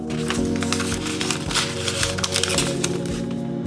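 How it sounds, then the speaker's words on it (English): Dense, crackly rustling of paper being crushed and crumpled up close, continuous and fairly loud with sharp crinkly bursts throughout. "That's just crumbling paper."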